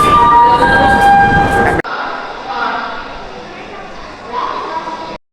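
Train noise at Kalupur railway station: a loud, rumbling roar with ringing tones that cuts off abruptly, followed by softer station din mixed with indistinct voices.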